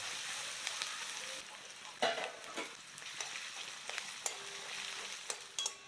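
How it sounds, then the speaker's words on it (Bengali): Sliced onions and slit green chillies frying in hot oil for Mughlai chicken maharani, with a steady close sizzle broken by scraping stirs and a few sharp clinks of the spatula against the pan. "তেলটা গরম হয়ে গেলে এতে কোচানো পেঁয়াজ ভাজতে দিচ্ছি।"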